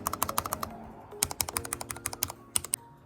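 A mini mechanical keyboard clacks through rapid, crisp keystrokes close by, in quick bursts with a short pause partway through.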